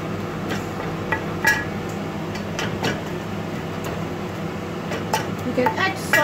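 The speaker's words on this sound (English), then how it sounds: "Give it a stir." Capsicum, sprouts, mushrooms, coriander and shallots are stirred in a pan, giving close, scattered scrapes and light metallic clinks over a steady low background of sizzle.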